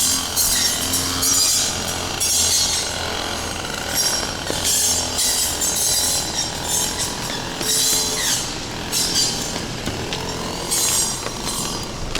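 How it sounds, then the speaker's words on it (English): A petrol lawnmower runs steadily at 9 in the morning, a continuous loud motor drone with rising and falling pulses as it works back and forth, heard without talk. "The beautiful sounds of a lawnmower at 9 in the morning."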